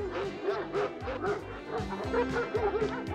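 A dog barks and yips repeatedly in quick, excited bursts, close by, with whiny pitch between barks.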